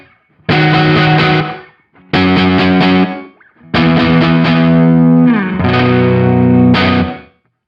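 Electric guitar played through a guitar pedal's short room reverb setting, three strummed chord phrases with brief pauses, each ringing out with a slight ambient tail.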